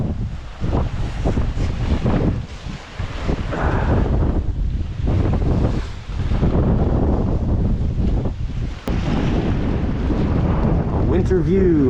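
Strong cold wind by the bay in Dalian, China, buffeting the microphone in loud rumbling gusts, with someone talking over it.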